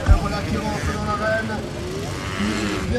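Motocross bikes race on a course at a final, engine drone heard at a distance beneath continuous French commentary.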